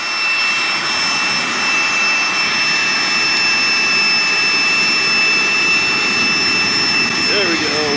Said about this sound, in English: if I just put the Giga Pump down there and hit the button, look what happens